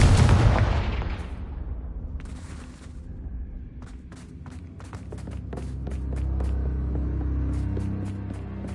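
Confringo fire blast spell in the video game Hogwarts Legacy, a loud booming blast with a rumbling decay, followed by scattered crackles and footsteps over a low ambient drone.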